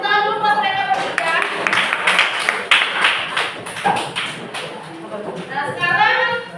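A classroom of students applauds for three classmates, a dense run of claps in the middle with a teacher's voice talking before and after.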